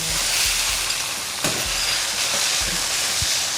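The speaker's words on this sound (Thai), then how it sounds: "ทีนี้เราก็ผัดเต้าหู้ให้เขาแห้งน้ำหน่อย" Tofu frying in a hot wok gives a constant loud sizzle and hiss, with a few low knocks of the spatula scraping and stirring, and no voices.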